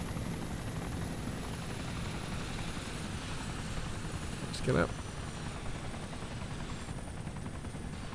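Merlin helicopter in Arma 2 landing at a British base, a steady loud rotor and turbine drone with a brief burst of noise midway and someone speaking over it.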